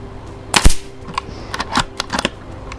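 Air rifle shots from an FX Wildcat MK2 at targets 20 m away: a sharp crack with a metallic ping, then several lighter clicks and ticks spaced irregularly over the next two seconds, no talking.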